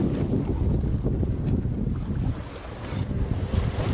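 A sailboat motoring at about four knots through waves, with a steady low engine and water rumble and constant wind buffeting on the microphone throughout.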